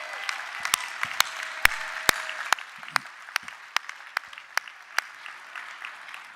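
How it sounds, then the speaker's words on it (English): Scattered clapping from an audience at a corporate awards night, President's Club Night in Washington DC, with sharp individual claps over a thin background murmur, fairly close and moderately loud. "Y'all give them a round of applause."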